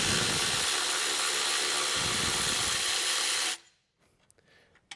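A 13mm wrench or ratchet loosens a rear seat bolt in a car, making a steady close grinding, whirring rattle for about three and a half seconds before it stops abruptly, with faint taps afterward.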